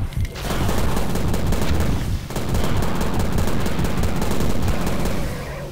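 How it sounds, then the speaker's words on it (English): Rapid, continuous barrage of rocket fire and explosions in the 2006 shooter game Prey, loud and dense for several seconds with a brief dip midway, no talk over it. "Stop firing rockets."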